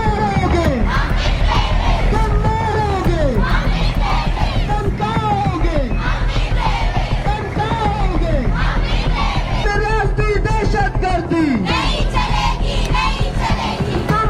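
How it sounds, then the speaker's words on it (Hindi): Women protest against the Pakistani army in Khuzdar, Balochistan, a loud, dense crowd chanting and shouting slogans together in rising rhythmic bursts, sustained throughout at close range. "बलूचिस्तान में महिलाओं ने प्रदर्शन किया, उन्होंने अपनी आवाज बुलंद की है"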